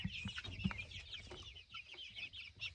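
Buff Orpington chickens, young cockerels among them, cluck softly and repeatedly at a moderate distance, with scattered short calls overlapping against a quiet background.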